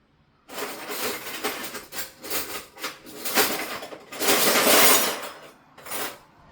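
A knife slicing chicken into thin strips with a dull blade, a run of close, irregular cutting and scraping knocks against a board, with louder bursts partway through and no talk.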